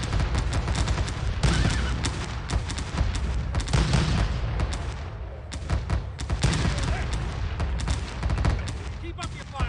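Dense gunfire and booming cannon volleys from a Civil War battle in Sid Meier's Gettysburg video game sound as continuous loud crackling musketry with heavy thuds, mixed with a voice speaking over the din.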